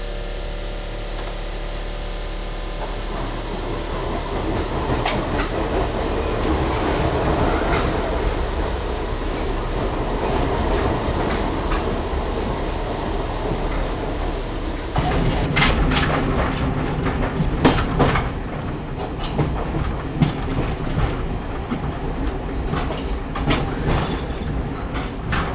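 Trains on the Johnsonville line pass each other at a busy crossing station, a steady rumble and clatter of wheels and carriages that swells midway as a second train arrives, loud and close with no voices.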